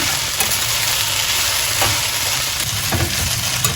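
Okra (bendakaya) frying in a pan, a loud, dense continuous sizzle and crackle with occasional stirring scrapes, no voices.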